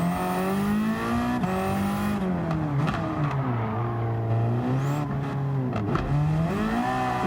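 A Ford Focus RS race car, a backyard build with bolted-on parts, racing against touring cars: a loud, steady engine drone that rises and falls through gear changes, with brief tire squeals and no talk.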